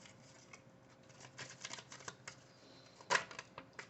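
Tarot cards being shuffled by hand, soft quick riffling taps and flicks throughout, with one sharper slap near the end, close and fairly quiet without speech.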